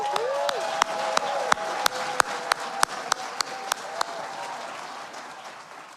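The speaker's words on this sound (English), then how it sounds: "Would you please give a round of applause" Applause at a folk music awards concert, with broad crowd clapping overlaid by a string of sharp, evenly spaced louder claps, all fading out toward the end.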